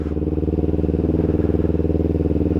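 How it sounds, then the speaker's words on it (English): A sportbike engine runs close and loud with a steady, rapid pulsing throb, holding an even pitch throughout without a clear rise in revs. "Pull in clutch, up gear, release clutch, throttle"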